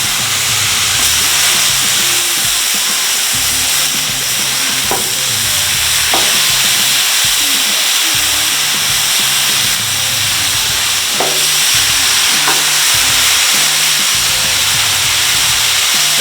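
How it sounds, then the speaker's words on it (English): Steaks sizzle on a Blackstone griddle with a steady, loud hiss of searing meat, broken by a few sharp pops and occasional scraping of a spatula, with no talking. "Let's lay these steaks right on the grill."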